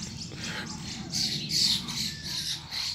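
Birds fighting in Detroit give a rapid series of harsh, close squawks and chirps, loud against a low background rumble.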